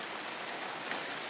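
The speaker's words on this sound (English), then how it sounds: "As you can see, it's raining and cold today" Rain falls steadily outside a greenhouse on a cold day, a faint, even hiss of drops with no voices.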